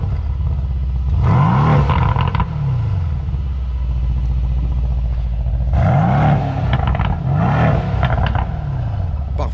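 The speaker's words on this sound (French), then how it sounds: "Il y a la signature V8 de chez Mercedes AMG, elle est bien là." Mercedes-AMG C63 S V8 engine blipped through a few sharp revs that swell and fall back over a loud, steady idle rumble, close up, with no talking.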